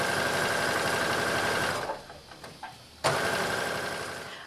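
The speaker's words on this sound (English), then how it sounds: "I'm going to stitch forward, I'm going to stitch back, and I'm going to continue all the way down that seam" A skirt side seam is stitched forward and back on a sewing machine, whose close, steady motor hum breaks off briefly with a few clicks before resuming and gradually tapering.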